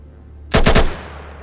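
A rapid burst of about four loud automatic gunshots rings out in the post-apocalyptic role-playing game ATOM RPG on mobile, sharp and close, fading into a brief echo over a low steady hum.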